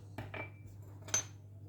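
A utensil clinks a few times against a bowl while flour, egg white and salt are mixed into pizza dough. The taps are light, quick and fairly quiet, heard alone.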